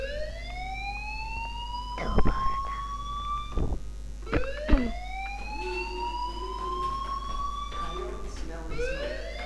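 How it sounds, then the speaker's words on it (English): In the video game Life is Strange, a school fire alarm sounds as repeated rising electronic whoops that sweep upward over several seconds, with a low steady hum, a few thumps and people talking over it. "Do you hear that fire alarm? That means you should be outside."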